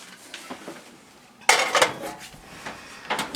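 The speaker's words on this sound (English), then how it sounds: "I'm going to tap my spatula gently on the top here so that I can even everything out" A spatula taps on the top of a ricotta cheesecake in its pan, a few light metallic clinks and knocks with a sharper tap in the middle, close and clear with no talking.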